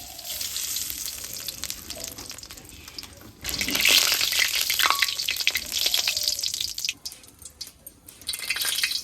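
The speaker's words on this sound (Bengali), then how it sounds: "এবার আমি চুলাটা ধরে নিই দিয়ে দেবো সর্ষের তেল" Mustard oil heats and sizzles in a pan on a village stove, frying continuously at a moderate level with a louder, busier burst in the middle, and no voices present.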